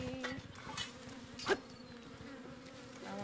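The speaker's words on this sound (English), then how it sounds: "Oh, bee!" Bee buzzing in The Legend of Zelda: Tears of the Kingdom, a steady droning hum with a brief louder swell midway, heard alone without talk.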